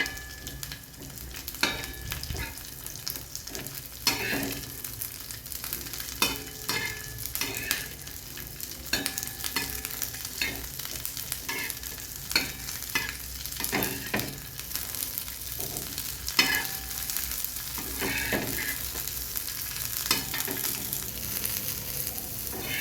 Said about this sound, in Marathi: मिरची थोडीशी भाजून घ्यायची तेलामध्ये थोडीशी परतून घ्यायची आहे